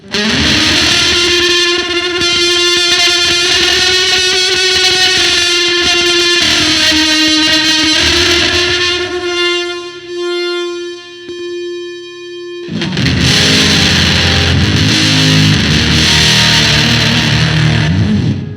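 Loud, saturated fuzz on a Fender Limited Edition Johnny Marr Jaguar Special electric guitar, middle pickup on, holding a sustained chord that fades briefly, then another heavily distorted strum rings out full and buzzy.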